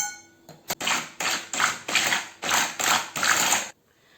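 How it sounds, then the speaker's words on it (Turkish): Cooled cream for a chocolate Oreo cheesecake is whipped until foamy, giving about eight loud, close, rhythmic whisking strokes in a steady pulsing pattern. "Şimdi köpük köpük bir kıvam alması için çırpacağım."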